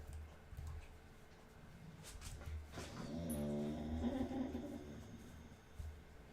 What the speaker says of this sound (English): She'll just like lay there and whine